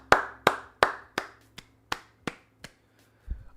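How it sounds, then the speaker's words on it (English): A single person claps about nine times during a livestream cheer, crisp, close hand claps that start quick and evenly spaced, then slow and soften, ending with a faint dull thump. "Claps. Claps for chat."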